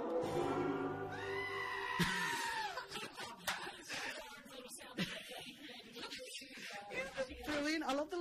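Goat-like bleating blends with twangy banjo music on a comedy podcast, a run of wavering bleats over the plucked tune at steady, fairly loud level.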